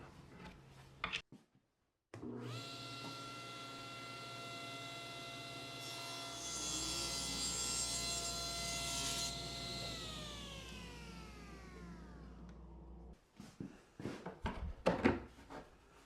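A table saw spins up with a rising whine, then a long steady rip cut through wood for about ten seconds before winding down, followed by brief clattering.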